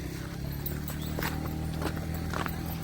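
A mare walking slowly, her hooves clip-clopping in an unhurried, uneven rhythm close by, with faint background sound and no clear talking.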